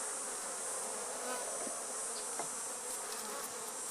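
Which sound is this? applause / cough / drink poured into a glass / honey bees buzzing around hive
honey bees buzzing around hive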